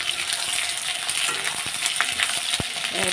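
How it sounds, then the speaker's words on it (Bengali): Bay leaves sizzling in hot oil for a Bengali mutton kosha, a steady close hiss of frying with a few small pops and clicks, no voices. "এদিকে দেখো তেলটা তেতে গেছে তেজপাতা দিয়ে দিয়েছি"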